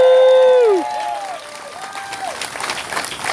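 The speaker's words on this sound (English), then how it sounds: "I want to hear a round of applause for yourselves." Rally crowd at a Back Our Blue event applauding and cheering for itself, a steady wash of clapping that rises after a sustained tone fades, with one voice whooping near the start.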